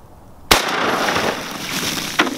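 A gunshot fired into water during an at-home science test, one sharp loud bang followed by a rushing splash and spray, then a second smaller thud near the end.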